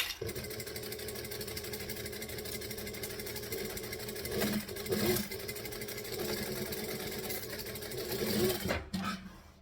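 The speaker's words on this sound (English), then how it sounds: "we're going to stitch, back stitch. Now we're doing 1/4 inch seam because that's what the pattern says to do" A sewing machine stitches a quarter-inch seam on a quilt panel, a close, continuous rapid mechanical whirring and ticking that slows briefly mid-run and stops at the end with a soft clunk.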